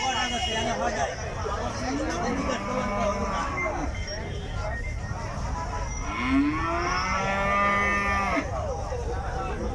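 Cattle moo loudly several times at a cattle market in Amulia Model Town, long drawn-out calls rising over a busy crowd of chattering voices nearby.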